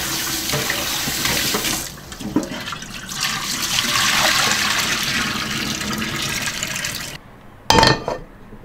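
Tap water runs steadily over pork ribs being rinsed in a kitchen sink, a continuous splashing rush that dips briefly, then stops before a short final burst.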